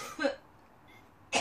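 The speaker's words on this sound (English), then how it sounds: "she's sitting there coughing her lungs out and filling our place with germs" A woman coughs in the background, with a short burst near the start and another sharp cough at the end, separated by near silence.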